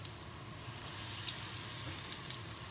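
Zucchini slices fry in a pan with a soft, continuous sizzle and faint crackling pops, heard up close at low volume and swelling slightly partway through.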